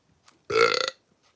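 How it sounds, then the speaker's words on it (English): A person fakes a burp with their voice: one loud, close, croaky belch of about half a second, standing alone between short silences. "So I would do a fake burp like this."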